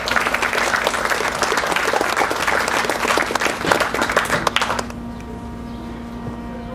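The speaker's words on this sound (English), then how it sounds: "Give him a round of applause." An audience at a morning gathering applauds as Carlton Lewis, aide to Diane Johnson, is called forward; dense, loud clapping fills about five seconds, then cuts off to quiet room tone.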